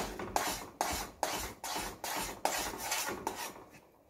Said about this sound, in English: When you're boiling our breadfruit porridge with the plantain, you have to stir it meanwhile you throw it in.